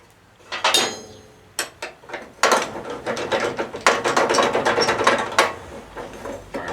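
Nut being worked off a pivot bolt on a John Deere STX38 lawn tractor: a series of close, loud metallic ratcheting clicks and tool knocks in irregular bursts, growing denser and steadier toward the end.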